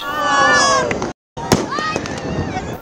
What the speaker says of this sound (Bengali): মধ্যরাতে আকাশ জুড়ে আতশবাজির ঝলকানি